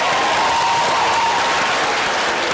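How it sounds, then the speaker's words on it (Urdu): An audience at a televised Eid poetry competition breaks into steady, loud applause, dense clapping sustained evenly throughout without pause. "ان کے لیے تالیاں"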